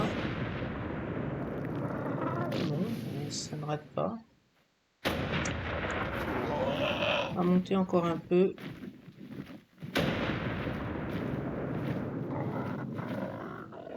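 Explosions rumble near a volcano in the video game Ark Primal Fear, heavy booming blasts and roars layered under someone talking, with a brief silent gap midway.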